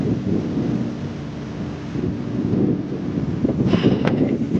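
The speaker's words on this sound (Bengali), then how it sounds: "বৃষ্টি চলে এসছে দেখুন," Thunderstorm rolling over a Bangladeshi village as rain arrives: a steady wash of rain and wind rumble fills the clip, with a low thunder roll and a brief sharper crack near the end.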